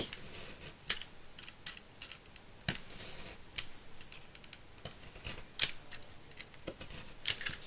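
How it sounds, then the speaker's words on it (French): A utility knife cuts notches into cardboard, making a series of close, crisp clicks and short scraping cuts at an uneven rhythm over a quiet background, with no speech. "On vient prendre le cutter et on vient couper 1 sur 2."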